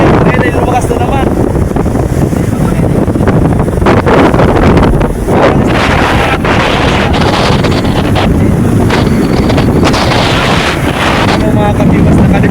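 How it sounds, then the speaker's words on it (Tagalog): Strong wind on a small boat at sea near Balungay, roaring continuously and buffeting the microphone over rushing water and large waves, loud and close throughout, with people talking under the noise. "Lakas ang hangin."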